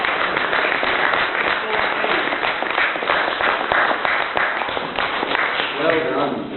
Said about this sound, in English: I've just got to say a big round of applause for